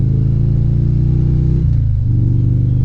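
A Harley-Davidson Road Glide motorcycle accelerating onto an interstate on wet pavement. A loud, close engine drone climbs in pitch, dips briefly at a gear shift, then pulls steadily again.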